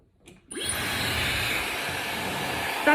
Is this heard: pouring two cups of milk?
no